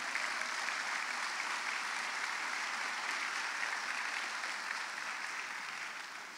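A church congregation gives a sustained round of praise applause, a dense, even wash of many hands clapping without pause that fades slightly toward the end.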